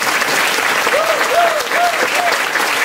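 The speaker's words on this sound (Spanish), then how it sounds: "Vamos a darle un fuerte aplauso a ellas para animarlas." Audience applause at a school's 63rd anniversary celebration, a steady broadband clapping wash lasting the whole clip, close and loud, with faint whistles or cheers rising briefly through it.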